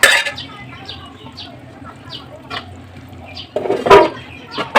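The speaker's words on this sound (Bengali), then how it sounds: "এখন তরকারিতে বলক চলে এসেছে, দেখেন বন্ধুরা, ঝকঝক করে বলক উঠছে" Curry boiling in a cooking pot, with soft, irregular bubbling and popping, a few louder splutters near the end.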